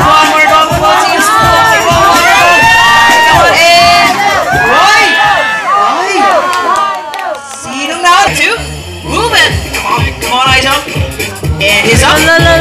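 A lively crowd cheers and shouts for competing teams at a talented-animals show, with an announcer talking loudly over the steady roar of voices throughout.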